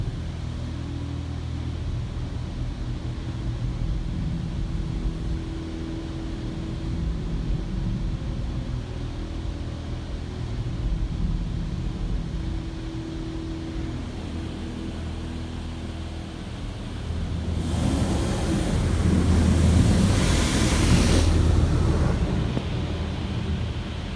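A PDQ LaserWash M5 automatic car wash at Colonial Car Wash in Albany, NY runs its rinse cycle: a steady low mechanical hum, then a louder rushing spray of water that swells for several seconds before easing off.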